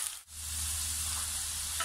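Sliced cassava chips fry in hot oil, a continuous close bubbling sizzle with a short dip early on.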